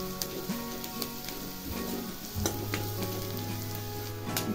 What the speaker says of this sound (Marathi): कांदा छान असा भाजून घ्यायचा आहे.